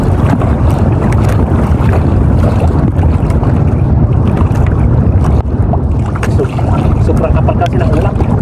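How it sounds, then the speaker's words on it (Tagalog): Loud, constant strong wind under thick cloud buffets the microphone on a small boat at sea, with water sloshing and occasional talking underneath the roar. "Malakas na yung hangin."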